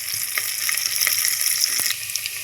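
Onions and coriander sautéing in a pan for mutton kulambu, a steady bright sizzle with faint stirring scrapes, close and alone.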